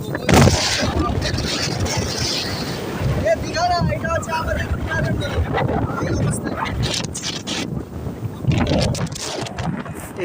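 Cyclone Remal winds blowing hard over the Rupnarayan river, a loud continuous rush and buffeting close to the microphone while someone talks over it throughout.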